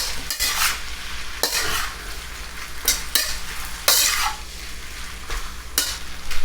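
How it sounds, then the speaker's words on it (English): Shrimp frying in a pan for yaki udon, a constant low sizzle broken by repeated sharp scraping bursts as a utensil stirs and tosses the food. "Let's get the shrimp in there."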